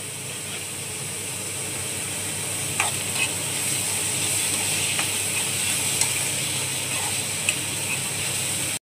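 Vegetables stir-frying for fried rice in a hot pan, a steady dense sizzle running throughout with occasional light scraping clicks of a spatula, close and alone without talk.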